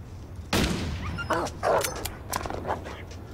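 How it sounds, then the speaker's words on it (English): A dog in the game The Long Dark barks and yips several times in short irregular bursts, close and fairly loud, with a faint whimpering quality between barks. "that dog was clearly glitching out, right?"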